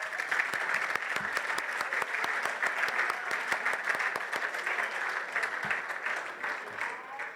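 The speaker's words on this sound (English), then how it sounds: "So a huge round of applause for Fatima and Ben." A room full of guests at a referees' annual awards dinner gives a hearty round of applause, dense and sustained clapping at an even level for several seconds before easing slightly.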